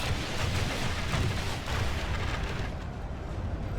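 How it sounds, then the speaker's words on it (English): Crossbows firing in a Third Age Total War battle, a dense, continuous wash of noisy bursts and crackles at steady loudness that eases off slightly near the end. "I think it's still trying to fire on the crossbows."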